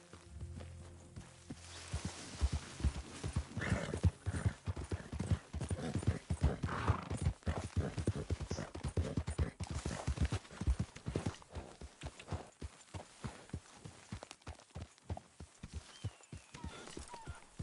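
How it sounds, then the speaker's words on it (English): Horse hooves clip-clop steadily on a hard surface in Red Dead Redemption 2, a close walking rhythm that runs the whole time, with a brief whinny near the start and a few faint game voices. "Hey, get that horse out of here!"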